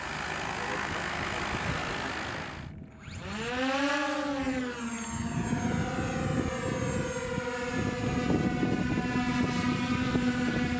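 A drone with a dual tail rotor, two propellers on the tail, flies at a UAE drone showcase, its steady engine drone rising and falling in pitch as it passes close by, then settling into a continuous hum.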